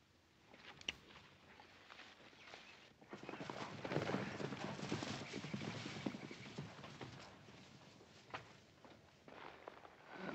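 Horses walk slowly across rocky ground in a Western setting, their hooves clip-clopping in an uneven, overlapping rhythm at moderate distance, growing louder midway.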